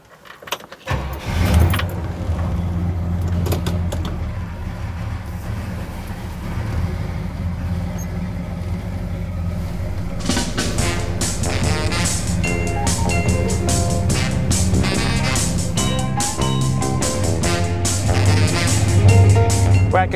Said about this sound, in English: Our ride for the day is a pretty cool car, 1966 Pontiac GTO.